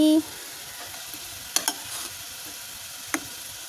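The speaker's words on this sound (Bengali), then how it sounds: "ভালো করে মশলাটা কষিয়ে নিচ্ছি" Spices fry for a country chicken curry, giving a steady soft sizzle with a couple of sharp stirring clicks against the pan.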